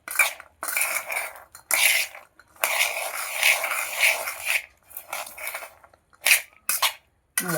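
Chana being mixed with lemon juice and spices in a bowl, producing intermittent scraping, clinking and stirring bursts against the dish, close and loud with short pauses between strokes.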